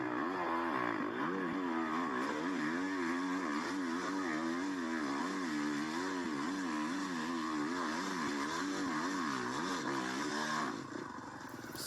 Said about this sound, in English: That bike sounds so good.